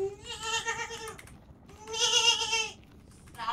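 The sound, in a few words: sheep bleating in the video game Minecraft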